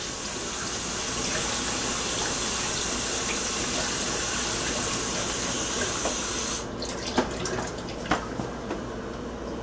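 Warm water runs steadily from a kitchen tap in a hissing, continuous stream, then shuts off, leaving scattered drips and small clatters.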